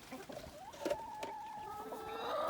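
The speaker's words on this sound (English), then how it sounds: "Mama chicken is not too happy." A free-range hen clucks in agitated, uneven bursts near her fresh eggs, close and fairly quiet, with faint outdoor background.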